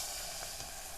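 Cumin, asafoetida, ginger and chili crackle in hot oil, a short burst of dense, steady sizzling and hissing up close with no talking.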